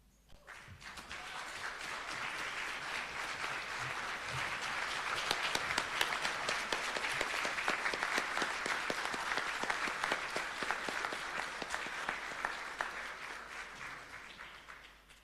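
Sustained applause from an audience at a coding academy graduation ceremony, rising quickly and holding steady for about fourteen seconds before fading, with no voices over it.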